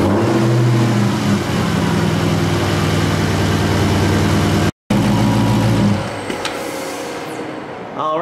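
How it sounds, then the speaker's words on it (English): A 2015–2021 Dodge Challenger Hellcat's 6.2L V8 running just after an oil and filter change, a loud steady idle rumble that drops briefly, then settles quieter and softer toward the end. "Now we're going to let the engine start, and we're going to run it for about 45 seconds."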